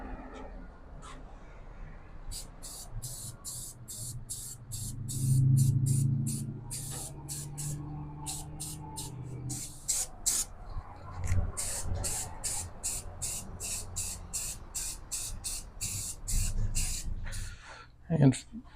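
Black spray paint hisses from an aerosol can in repeated short bursts onto a shop-made welding cart, close and fairly loud, with someone talking between and over the sprays.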